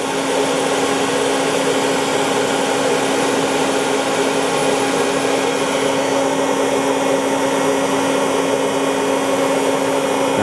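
Citizen M-20III Swiss-type CNC lathe from 2004, its live tooling spinning on the turret with a steady, loud, close mechanical whine and hum that holds constant throughout, with no voices.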